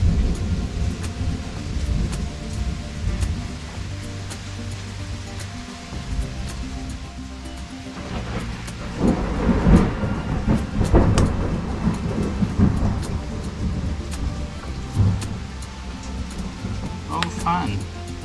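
Rolling thunder rumbles through a steady thunderstorm with rain, swelling into a louder crack midway, while a person talks nearby.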